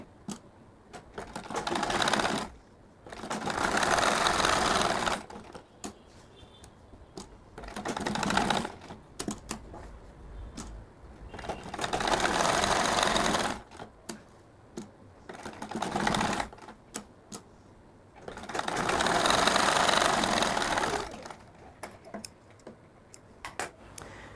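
A sewing machine stitches a fotua, a kurta-style shirt, attaching a pocket in several bursts of rapid mechanical clatter lasting a few seconds each, separated by quieter pauses with faint handling noise.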